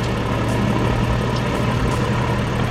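Right engine of a Diamond DA62 twin aircraft running at a steady idle after start, a continuous even drone with strong low rumble and no voices.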